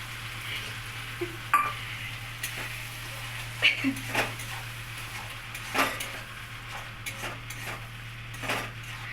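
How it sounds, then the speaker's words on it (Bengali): Coconut paste going into a spice mix frying in oil in a pan, a low sizzle under repeated stirring scrapes and light utensil taps against the pan. "এই যে নারকল পেস্ট দেওয়া হচ্ছে"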